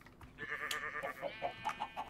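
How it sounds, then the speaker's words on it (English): A sheep bleats repeatedly in a Minecraft video game, a string of short, wavering calls in quick succession, close and clear with no talk over them. "We got one horny sheep over here,"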